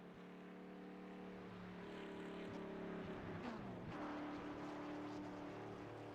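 Racing truck engine in iRacing at Watkins Glen, a sustained droning engine note at moderate distance that shifts pitch midway as the driver runs in the wrong gear through a corner.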